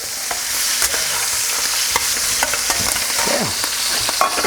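Rice noodles fry in hot oil in a wok, a steady loud sizzle and crackle running throughout, with a few sharp scraping knocks near the end as the noodles are flipped.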